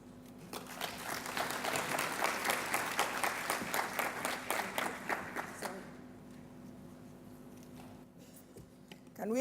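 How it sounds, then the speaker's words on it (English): Broad applause from a conference audience at the opening of the 9th African Regional Conference on Beijing+20 Review, full and steady for about six seconds before it fades into quiet room tone. "Can we have another round of applause for Madam Puri?"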